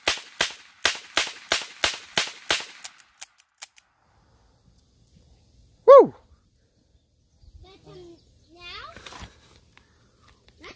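A gun loaded with blank rounds fires about eight sharp, loud shots in quick, even succession outdoors. A long quiet follows, broken by a brief squealing cry and faint, scattered voices.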